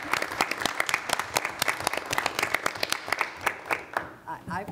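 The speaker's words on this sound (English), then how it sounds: "guys gotta clap for yourself" Room of board meeting attendees clapping for themselves, dense overlapping claps for about four seconds that thin out and fade at the end, with faint voices underneath.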